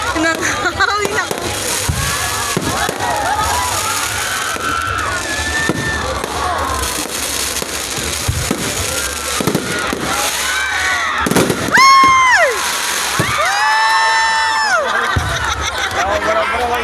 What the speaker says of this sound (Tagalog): Ano yung fireworks siya?